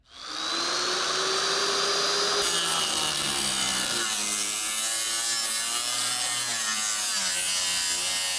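A cutting tool saws through the cab roof of an International pickup truck, a loud, continuous, close metallic grinding whine with shifting harmonic tones and no talk.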